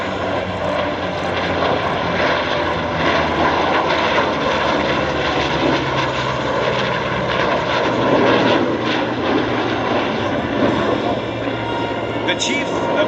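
The US Navy Legacy Flight formation passes over the Thunder Over Michigan 2021 airshow with a loud, sustained propeller-engine drone, while an announcer talks over the roar.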